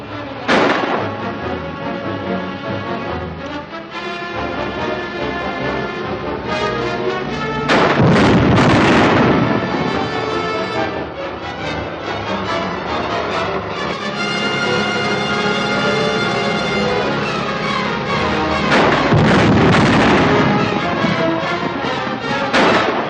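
Grenade explosions in the 1950 Republic sci-fi serial The Invisible Monster, two heavy bursts about twelve seconds apart, set under a loud, dense orchestral score.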